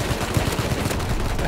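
Rapid, sustained automatic fire from an AK rifle in Rust, a close, steady stream of sharp gunshots with a heavy low thump under each round.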